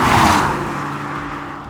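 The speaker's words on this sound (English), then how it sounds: "it punches off the line really crisply without any histrionics" A 2019 Mercedes-AMG E53 Coupe with a mild-hybrid EQ boost launches hard off the line, its engine note surging loud at first and then fading slightly as it pulls away.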